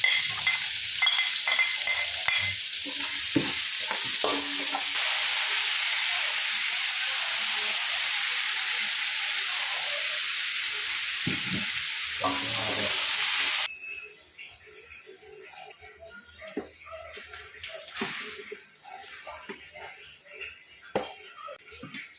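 Onion and garlic sautéing in a pan for a vegetable dish: a loud, steady sizzle and hiss for about fourteen seconds, then abruptly quieter with scattered clinks and stirring as someone speaks.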